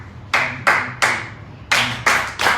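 Hand claps from a group keeping a capoeira rhythm: two sets of three sharp, close claps separated by a short pause, crisp and evenly timed with nothing else in the background.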